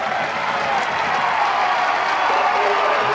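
A high school homecoming football crowd in Morgantown, 1997, sends up a steady, dense roar of cheering and clapping from a large stand, with an announcer talking over it.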